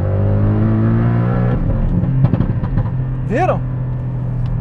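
Porsche 718 Cayman GTS, 2019, revving in Sport Response mode: a steady engine drone rises with sharp throttle blips and a quick rising-falling whine, heard from inside the car with someone talking over it.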